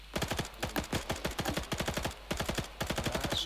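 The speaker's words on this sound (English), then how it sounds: "Suppressing fire!" Rapid video game gunfire plays in quick automatic bursts with short gaps between them, crisp and fairly loud, with no talking over it.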